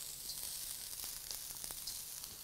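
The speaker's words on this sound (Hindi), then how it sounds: "प्याज को हम भूनेंगे ज़रा सा दो मिनट से ऊपर नहीं इसमें जाएगी कैबेज कैरेट्स" Chopped onion, cabbage and carrots sizzle steadily in a hot pan during a veg chowmein stir-fry, a dense continuous hiss with occasional louder crackles from stirring, close and alone.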